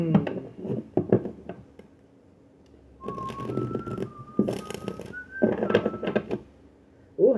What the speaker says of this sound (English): Now I just want to whistle X-Files.